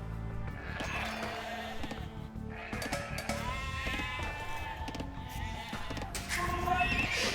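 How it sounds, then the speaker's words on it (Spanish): Sheep bleat in the strategy game Age of Empires II, several wavering cries rising over the busy in-game background of clatter and ambient tones. "Aquí tenemos ovejitas."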